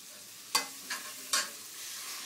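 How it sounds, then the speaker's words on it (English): Water poured into a hot pan of softened, lightly browned sautéed onions, giving three sharp bursts of sizzling hiss that flare and fade, followed by a steady low frying sizzle with no talking. "To this now I add my water."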